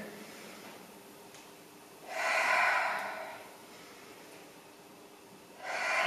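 A deep breath drawn in during a beginner-to-advanced HIIT workout, a clear breathy inhale of about a second, followed later by the start of another breath near the end.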